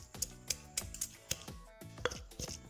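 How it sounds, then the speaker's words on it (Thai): A pestle pounds chilies in a mortar with sharp, close thuds at a steady rhythm, about ten blows with brief gaps between them and no talk. "เขามาตำพริกก่อนนะครับพริกนี่แหลกยากครับผม แยกโขกให้ละเอียดครับ"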